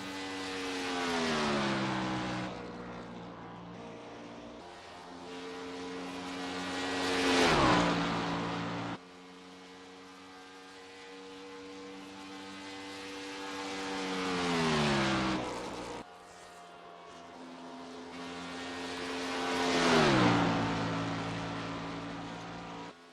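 A race car engine in iRacing at the 2016 Las Vegas track screams through a lap, pitch climbing through each gear then dropping sharply on upshifts and braking, loud swells repeating with brief cuts, no talk.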